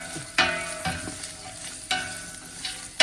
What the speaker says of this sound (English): once the oil is already heating up, next step, we're gonna add the carrots on it